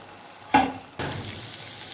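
Chicken simmering in a little water in a pan while being cooked for a paratha roll, a sharp burst of sizzling and stirring followed by a steady, close bubbling hiss.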